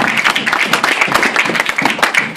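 A church congregation claps and applauds together during a lively French-language worship service, a dense, steady patter of many hands that fills the space without pause.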